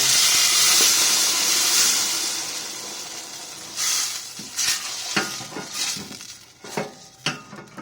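Mung beans hit a hot pan of garlic and onion and sizzle loudly, then a spoon stirs them with repeated scraping strokes as the hiss gradually eases.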